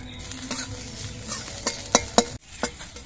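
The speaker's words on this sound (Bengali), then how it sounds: "এবার কয়েকটা কাঁচা লঙ্কা আমি ভেজে নিচ্ছি" Green chillies sizzle in a pan, with a steady frying hiss, a few sharp clinks of a utensil against metal, and stirring sounds close up.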